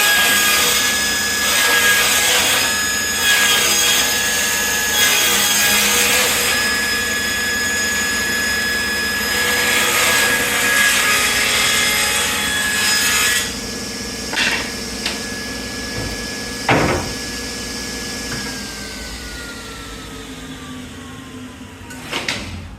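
Table saw ripping small wood strips, a loud steady blade whine with the cut running for about thirteen seconds, then the motor spinning down through a few lighter knocks and thumps.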